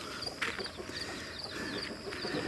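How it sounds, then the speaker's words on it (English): Little chicks peeping in short, high, repeated chirps close by outdoors, over a steady background hum. "she'll just watch these little chicks run around"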